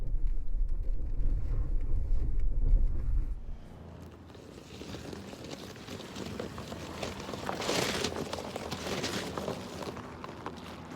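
A 2019 Toyota RAV4 Adventure with all-wheel drive climbs over rocks and dirt, giving a loud, steady low rumble for the first few seconds, then a quieter rough crunching drone with wind buffeting the microphone.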